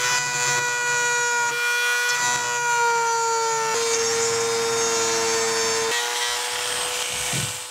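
An ordinary router bit carves letters freehand into a DIY gravestone, making a loud, continuous high-pitched whine whose pitch steps down as the bit bites in and then holds steady.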